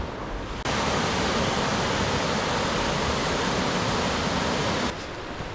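Small waterfall that is more of a rapid on a creek at Hite's Cove, a steady loud rushing of water without pause, close by.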